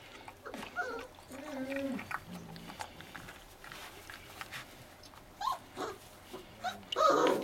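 Bully Kutta puppies being weaned and fed whimper and yip in faint, scattered cries, with a few louder squeals near the end over a quiet room.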